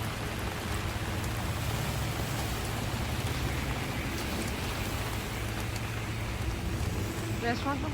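Steady rain from a thunderstorm in Dubai falls and patters on surfaces nearby, a constant hiss with faint wind, continuing evenly throughout.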